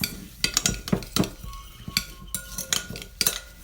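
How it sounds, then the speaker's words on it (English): Meatloaf ingredients are mixed in a bowl with a utensil, making irregular clinks and scraping taps against the bowl. The sounds are close and moderately loud, with no talking. "So I'm going to mix these ones up now."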